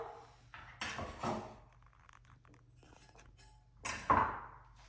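Chopped pineapple avocado salsa ingredients are tipped into a mixing bowl, making a few scattered clinks and dull knocks against the bowl, with two sharper clatters at the start and near the end over quiet background.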